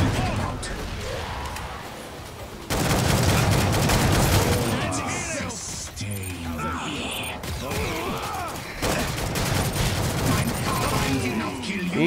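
Rapid shotgun blasts and gunfire in a close-quarters fight in Killing Floor 2, loud and repeated, with someone talking over the shooting.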